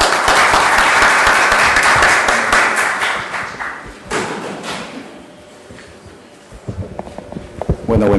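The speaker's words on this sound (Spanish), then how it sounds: "Así que también un fuerte aplauso para el doctor" Strong audience applause for a doctor at a lecture on the Peruvian criminal procedure model, a loud dense wash of clapping that fades over several seconds before quiet room noise, a bump, and a few scattered sounds.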